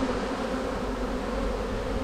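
Dense, steady buzzing of a honey bee swarm close to the hive, a continuous insect drone that stays even and loud for the whole short stretch with no voices.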